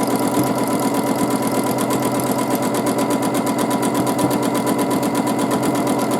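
Domestic sewing machine running steadily during free-motion quilting of wavy lines, a continuous fast mechanical whir and needle chatter held at an even pace throughout, close and fairly loud with no talking.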